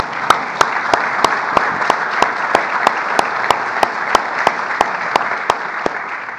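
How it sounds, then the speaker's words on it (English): An audience at a K-12 school cyber security event applauds with loud, sustained clapping, marked by sharp, evenly spaced claps in a steady rhythm over a dense wash of hands. "That applause was prompted by our Deputy National Security Advisor, friend and colleague, Ann Neuberger."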